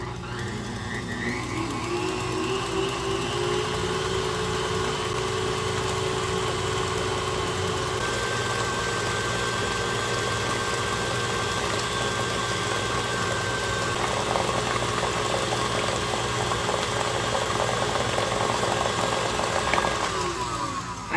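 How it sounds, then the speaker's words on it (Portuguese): An electric stand mixer beats eggs for a blueberry and lemon cheesecake, giving a loud, continuous motor whir that holds steady for about twenty seconds, with a slight shift in pitch partway through and no voices. "Vou ligar a batedeira e vou colocar aqui o ovo de quatro vezes"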